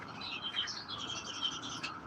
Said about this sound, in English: Especially on this beautiful day with the birds, the sparrows more specifically,